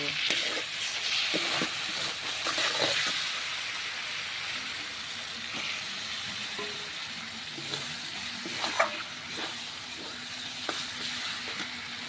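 Masala spice paste fries in a pan with a constant, fairly loud sizzling hiss, broken by occasional scrapes and clicks of stirring.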